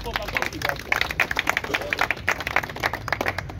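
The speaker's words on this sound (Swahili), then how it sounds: "Makofi" A crowd bursts into applause, with sharp, uneven claps close by over a background murmur of voices.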